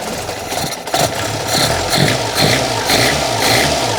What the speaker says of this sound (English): this is really motivating to hear this engine run for the first time in a long time